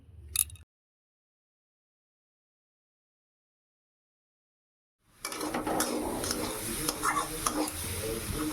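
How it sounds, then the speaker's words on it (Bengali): Chopped beto shak greens tempered with nigella seeds and dried chillies are stir-fried in a pan, sizzling close up with repeated spatula scrapes. A brief clatter comes first, then a long silence before the frying sound begins. "কালো জিরে আর শুকনো লঙ্কা ফোড়ন দিয়ে ভালো করে শাকটা ভেজে ভেজে নিলাম।"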